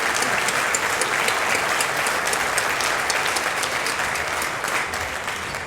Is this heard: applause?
yes